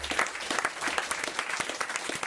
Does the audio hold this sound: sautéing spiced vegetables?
no